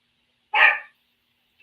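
A single sharp dog bark rings out close in a quiet room, followed by the start of another yip at the very end.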